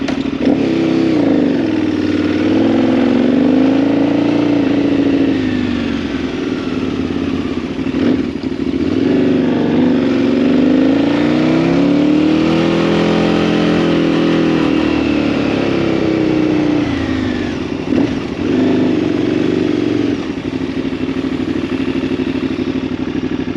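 A 2008 KTM Super Duke 990 motorcycle engine revs loudly and continuously, its pitch rising and falling in repeated swells before settling, close and steady throughout.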